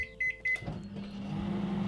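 A microwave oven beeps a few times, then its turntable motor and fan settle into a steady, close hum that continues to the end.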